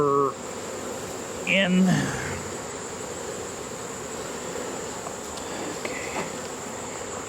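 A honeybee swarm being scooped into a hive gives a continuous, close buzzing hum, with a short word and brief handling noises near the start.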